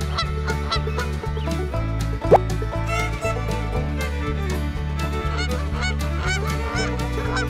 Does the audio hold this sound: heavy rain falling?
no